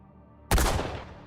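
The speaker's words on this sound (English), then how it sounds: "gunshots were heard in the plaza, with bullets hitting Kennedy and the governor of Texas" A gunshot rings out in the plaza during the Kennedy assassination: a single loud, sharp blast after a quiet lead-in, followed by a long echoing decay that fades away.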